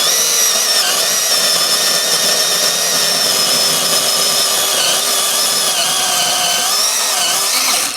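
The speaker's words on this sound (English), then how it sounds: "That little chainsaw did the job." A small chainsaw screams steadily at high revs while cutting up a deer carcass, loud and close, holding one strained tone before cutting out at the end.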